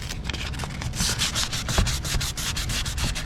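Old clear coat being sanded off a panel by hand, steady rapid scrubbing strokes in a continuous close, fairly loud rasp with no talking.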